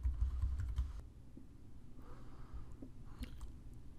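Someone types a short word on a computer keyboard, a quick burst of close, soft key clicks followed by a few scattered taps, with no talking over them.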